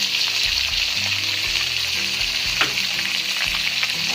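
Spinach stir-fried in a hot wok with sugar and mushroom sauce, a strong continuous sizzle with rhythmic scraping and tossing strokes of the spatula, close and loud, with no talking.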